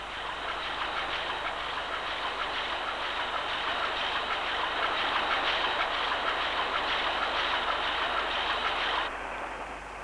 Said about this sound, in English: the diesel engine provides a maximum of effect on a minimum of oil consumption